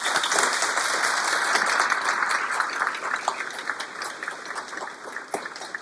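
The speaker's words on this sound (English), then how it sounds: "let's give them a round of applause" An audience at a city's State of the City 2022 address in Altoona, Wisconsin claps in sustained, even applause that holds steady before gradually thinning toward the end.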